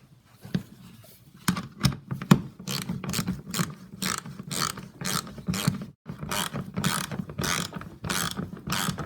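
Ratchet tightening 10 mm bolts on a 2016 Toyota RAV4 fog light housing, close rapid clicking strokes in repeated bursts with short pauses between.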